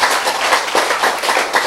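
A group clapping together, brisk rapid handclaps layered into a loud, even burst of applause close by, lasting under two seconds.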